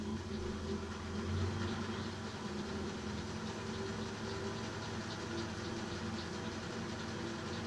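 A metal lathe spins at roughly 340 rpm while machining a cutting tool for a four-way tool post. It gives a steady, continuous mechanical hum with a faint whine, close by and unbroken throughout.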